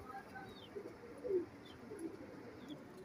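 A pet pigeon of a Teddy, Golden or Rampuri breed gives soft, low coos, a few brief calls spaced across the quiet background, faint and fairly close.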